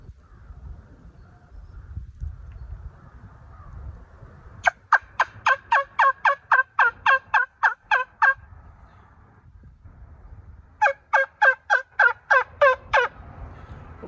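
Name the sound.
custom primitive deer tine and bone turkey call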